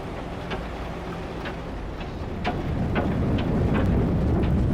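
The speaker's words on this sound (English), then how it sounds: "And it's raining down here" Rain falling on a planet in a space exploration video game, a steady hiss with scattered drop ticks that grows slightly louder toward the end, with no talking.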